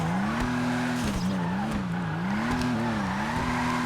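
A Vulcar Nebula Turbo drifting in GTA Online, its engine droning steadily with a rising and falling pitch as the tires squeal continuously through the slide, loud and close with no talking.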